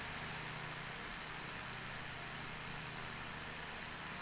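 Steady aircraft engine drone from a plane in Microsoft Flight Simulator 2020, a continuous even hum with broadband noise holding at constant level throughout, with no voices over it.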